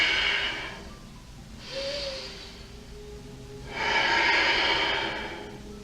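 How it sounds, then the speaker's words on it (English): A slow, deep yoga breath: a soft airy inhale, a pause, then a longer, fuller exhale, close and quiet with no talking. "Take a nice deep breath in"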